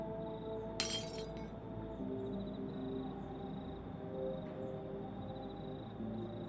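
A sharp burst of shattering glass rings out near the start, then a steady electronic drone with faint chimes continues.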